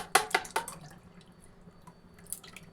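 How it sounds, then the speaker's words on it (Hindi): Strained lemon juice drips and trickles into cooled sugar syrup in a few quick splashes at the start, then a faint, quiet background with one small later drip. "अब इसमें हम नींबू का रस छान करके डालेंगे"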